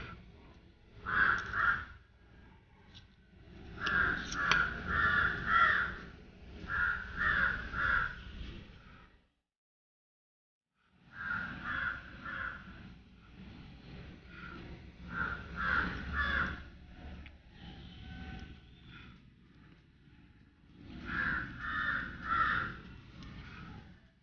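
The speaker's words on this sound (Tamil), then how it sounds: "பக்கத்தில் ஒரு காக்கா கத்திட்டு இருக்கு." A crow caws repeatedly close by in loud clustered bursts, with a brief quiet gap midway, near a pencil-lead carving workspace; no one speaks.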